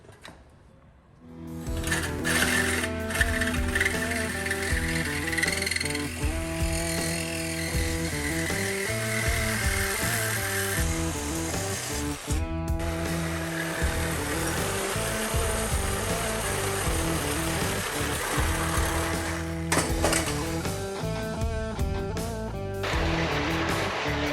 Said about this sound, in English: Got a tool to fix that. It's called a Sawzall.